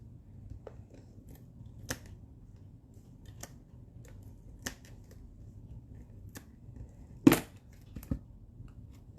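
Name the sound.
scissors cutting ribbon at an angle for a card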